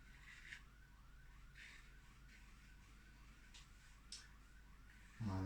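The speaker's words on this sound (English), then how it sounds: "Oh, now that's the alarm that just doesn't stop." An alarm at a school just up the road in Durban: a faint, distant repeating siren-like wail cycling steadily in the background of a quiet morning, with a louder thump near the end.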